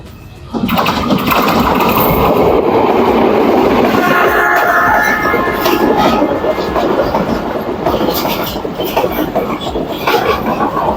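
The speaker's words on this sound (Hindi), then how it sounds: "जाफर एक्सप्रेस 40 डाउन, चारों सूबों की ट्रेन।" Jaffar Express passenger train, the 40 Down service crossing Pakistan's four provinces, rumbles past at close range, a loud sustained roar of wagons and rail noise filling the whole stretch with no talk.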